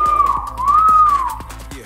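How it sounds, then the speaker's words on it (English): A clear, melodic human whistle rising and falling in pitch across the clip, fairly close and moderately loud, with faint background rumble. "you whistle really good, dude"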